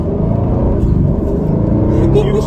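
Aston Martin F1 safety car driven on the road, its engine giving a loud, steady, low rumble close by that holds the whole time without any clear revving.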